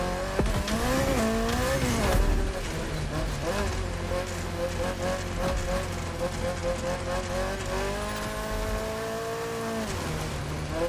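Lancia Rally 037 rally car in The Crew Motorfest, engine revving loud and steady with rising and falling pitch through gear changes, the back end sliding with tire squeal as it powers through a turn.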